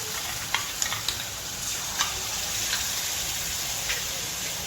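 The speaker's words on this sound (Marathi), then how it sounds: "मस्तमध्ये हलवून घ्यायचं याला पूर्ण दही सुकेपर्यंत" Yogurt being stirred into green chilies in a hot pan, a steady sizzle and hiss with several light scrapes and taps of the spoon against the pan, close up, with no talking.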